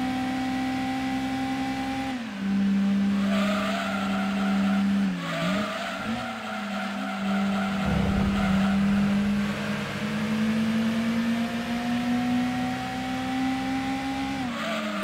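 Several racing car engines in Gran Turismo 2 drone steadily at high pitch from behind, rising and dipping with gear changes, with occasional tire skids, continuous and fairly loud.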